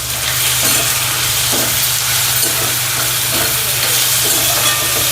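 Onions sauté with salt in a pan for a spicy Maharashtrian zunka, giving a steady, close hiss of frying. A spatula scrapes softly now and then, with no talking.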